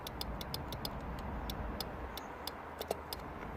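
Relay on an Opel Astra H 1.6 with a crank-no-start fault clicks in a quick series of sharp ticks when grounded, close and clear over a steady low hum, with no talking.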